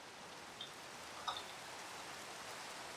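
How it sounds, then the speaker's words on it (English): Rain in the video game Minecraft, a faint steady hiss of rainfall with a few small ticking drops scattered through it. "There's the rain."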